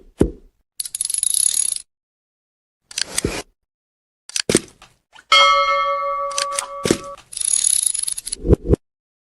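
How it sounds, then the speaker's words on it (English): A small bell struck in several quick separate bursts, each a bright metallic ring with short decay, loud and close, with one longer ringing stretch in the middle and gaps of silence between. "Ring the bell. Yeah, ring the bell fast."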